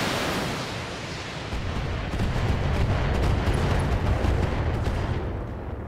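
Heavy mech weapons fire in the modded BattleTech game, a dense, continuous barrage of booming blasts and rumbling explosions that stays loud and full throughout.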